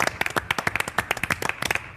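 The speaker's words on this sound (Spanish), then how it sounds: "Les mandamos este aplauso, si les parece bien." Studio applause on an Argentine television talk programme: a brief burst of dense, fairly close clapping from a small group, without speech.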